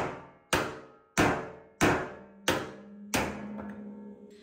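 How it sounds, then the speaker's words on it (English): A flat titanium sheet being worked into a gong takes six sharp, evenly spaced hammer strikes. Each blow rings out bright and metallic, then decays into a sustained resonant hum. The ringing builds and lingers more with the later strikes, with no talking. "Coming back, more and more hammering, back on the flat sheet,"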